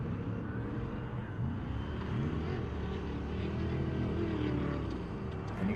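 Jimco-chassis Class 1 off-road race cars at the State Line Shootout, engines droning hard and continuously at full throttle, a steady loud roar with shifting pitch from passing vehicles, no talk over it.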